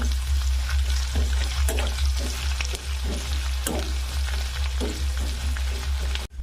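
Chopped onion frying in hot oil, a continuous loud sizzle with intermittent stirring scrapes close to the pan, no voices.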